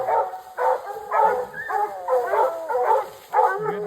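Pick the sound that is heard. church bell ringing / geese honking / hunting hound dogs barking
hunting hound dogs barking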